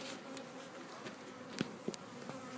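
Honeybees at a full beehive hum in a steady, continuous drone, close and fairly quiet, with a couple of brief sharper ticks near the end.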